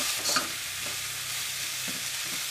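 Cauliflower for a Kerala-style masala is stirred in a frying pan. Brief scraping strokes cut through a close, steady sizzle, with no voices.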